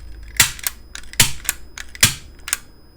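A Daiso staple gun used for silkscreen stretching, firing staples: four sharp, loud spring-driven snaps at roughly even intervals, each with a lighter click after it, close up with no voices.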